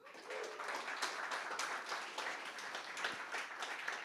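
Pitch night audience at a summit finale breaks into a round of applause, many hands clapping steadily with a few sharper claps, moderately distant and sustained.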